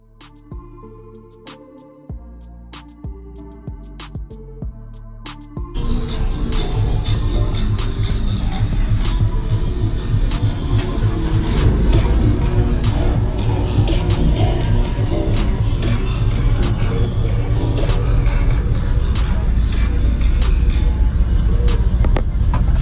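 A bass demo track pumps through two 15-inch subwoofers inside a car, starting with quieter music before a sudden jump to loud, sustained, booming low-end bass that fills the cabin and continues steadily.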